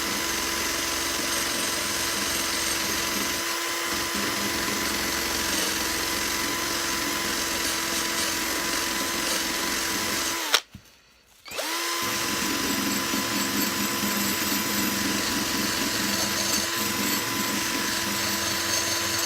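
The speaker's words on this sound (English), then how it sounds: "the next thing I'm going to do is try and remove the rust off of this little part" A high-pitched power tool whirs steadily while stripping rust from a small part of a Hoover Junior U1650 vacuum cleaner, with a single brief stop and restart midway, close and loud with no talking.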